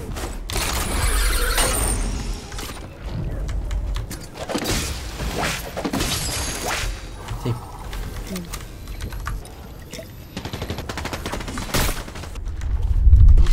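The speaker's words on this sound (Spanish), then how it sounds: "Alguien me está disparando y no sé de dónde." Fortnite gunfire in bursts of sharp cracks over a busy game mix, with keyboard clatter and someone talking in between.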